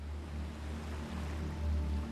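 Ocean waves roll and wash in a low, steady surge at sea, a continuous rumbling swell with a faint rise toward the end and no voices.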